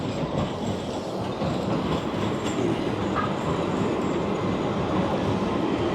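A tram rumbles steadily on an Istanbul street as it pulls away, a loud continuous rolling roar with faint wheel squeal and clatter, close by and unbroken.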